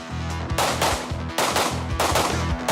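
Rapid pistol gunshots from a race gun during a USPSA national championship stage run, loud close bursts of quick shots with brief pauses between strings, fired as fast as possible at steel targets.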